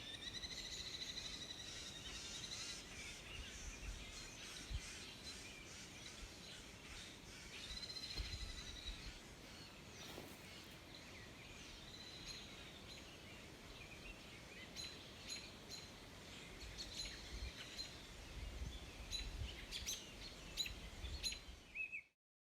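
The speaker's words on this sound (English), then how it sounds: "The birds are singing because we just had a rain." Birds sing and chirp through a quiet backyard just after rain, bright calls repeating at a moderate distance over a constant bed of insect and cricket noise, with no voices.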